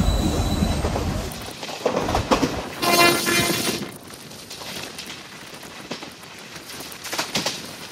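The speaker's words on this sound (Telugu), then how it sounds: "ఈ ట్రాక్ లో కోచ్ మొత్తం దడదలాడిపోతుంది మొత్తం" Train coaches on the Tirupati–Villupuram Express rattle and clatter over the track near Chandragiri, a loud uneven rumble with clanks, wheel squeals and a brief horn-like tone that fades and surges again.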